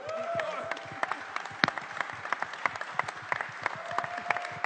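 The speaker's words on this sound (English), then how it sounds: "Ladies, put your hands together." Scattered claps and cheers greet the performers at a livestreamed music battle, thin and fairly faint, with a few individual hand claps and brief whistles or tones over a quiet background.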